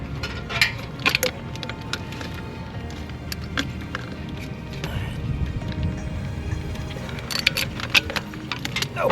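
Hand-tightening bolts while reinstalling a Subaru's TGV and EGR parts, with scattered sharp metallic clicks and tool clatter over quiet background rumble, close up and irregular.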